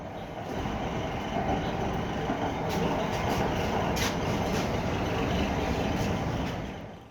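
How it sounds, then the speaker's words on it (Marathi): A Mumbai metro train rumbles steadily along the tracks, a loud continuous roar with faint rattling, no voices. "योगेश कदम यांनी मेट्रोनं प्रवास केलाय"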